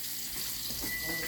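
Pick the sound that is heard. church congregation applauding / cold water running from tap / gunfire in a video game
cold water running from tap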